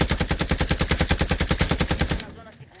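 A rapid, evenly spaced burst of automatic gunfire in a video game, loud and close, running steadily for about two seconds before cutting off into quiet.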